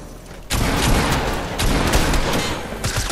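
Burst rifle gunfire in Fortnite, hip-fired in a team match: after a quiet start, several loud, close bursts of rapid shots follow one another with brief gaps between them.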